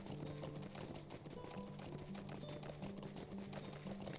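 A horse galloping in the video game Lord of the Rings Online, rapid rhythmic hoofbeats running steadily under soft game music, faint and continuous.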